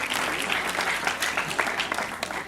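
Audience applause for a guest at a student debate, a steady, dense clapping that holds at even strength from start to finish with no voices over it.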